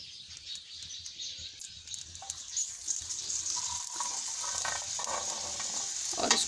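Besan roti sizzling with ghee on a tawa, a light crackling sizzle that grows slightly louder, with a few soft scrapes and taps along the way.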